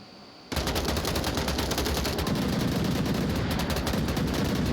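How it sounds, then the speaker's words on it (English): Dense, continuous gunfire erupts after a brief quiet start in a competitive Onward VR match, rapid overlapping shots and bursts ringing out loud and unbroken for several seconds. "Lots of gunfire."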